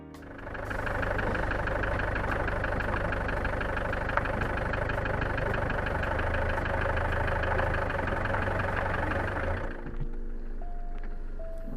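A Renault 9 GTD diesel car idling, its engine giving a steady, rough, clattering rumble with a knocking diesel character, close and loud for about ten seconds before it cuts off and quiet follows.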